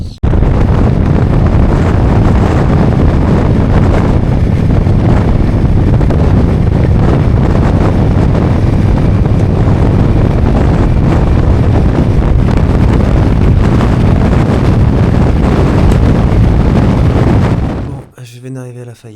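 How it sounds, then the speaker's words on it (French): Strong wind at Holly Beach, Louisiana buffets the microphone in a loud, continuous rumble with gusty surges, then drops off abruptly near the end. "il fait un peu venteux mais c'est sympa"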